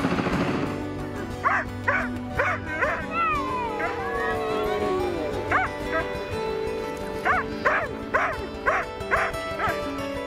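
Dogs at a sled-dog setting give a run of sharp yips and barks in two bursts, with whimpering in between, loud and close over a low background hum.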